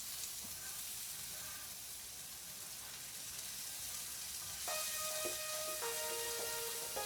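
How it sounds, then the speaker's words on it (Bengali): Whole garam masala, bay leaves, dried red chillies, a green chilli and cumin seeds sizzle in butter and oil for palang chicken, a steady close hiss of frying, joined midway by a few bright tonal beeps. "গোটা গরম মশলা, তেজপাতা, শুকনো লঙ্কা এবং একটা কাঁচা লঙ্কা আর গোটা জিরে আমি ফোড়নে দিয়ে দিলাম।"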